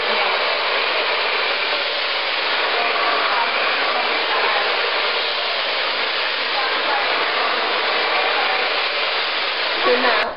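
A hair dryer blows steadily and close for the whole stretch while hair is smoothed with a paddle brush, giving a constant airy roar with a faint brushing rustle near the end.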